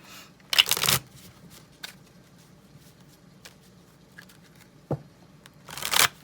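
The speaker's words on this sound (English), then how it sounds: "this deck wants to be shuffled a lot for this one." A deck of cards is shuffled during a tarot-style reading, with two quick riffling bursts near the start and the end, short soft card flicks in between, close and moderately loud, with no talking.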